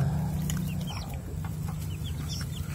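Close, steady clucking from a hen and her newly hatched chicks in a small domestic flock, with soft chirps and murmurs layered over a continuous low background.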